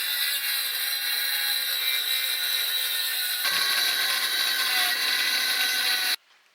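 A power tool saws through a board clamped down in a Unimog off-grid kitchen build, a steady loud whine running nonstop for about six seconds, shifting pitch midway, then cutting off abruptly.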